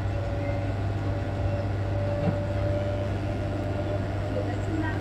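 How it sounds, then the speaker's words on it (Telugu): The Guntur–Repalle MEMU passenger train rolls out of Vemuru station under a hot sun, giving a steady low rumble and a constant engine hum, with a faint tone sustained above it. "మొత్తానికైతే మన ట్రైన్ అయితే డిపార్ట్ అయిపోయిందండి వేమూరు నుండి"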